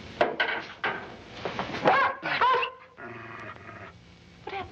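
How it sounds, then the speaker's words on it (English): A dog growls and yips close by, giving low rumbling snarls and a sharp whimpering rise in a tense scene from a foggy London crime drama, with no talk over it. "What happened to the dog?"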